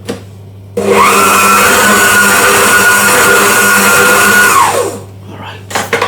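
A stand mixer fitted with a dough hook churns cake batter with a dusting of flour, its motor starting abruptly into a loud, steady whir that holds for about four seconds before winding down.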